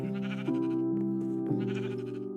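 A Minecraft sheep bleats in a sustained, nasal, wavering call, two overlapping bleats close up and fairly quiet with no talk.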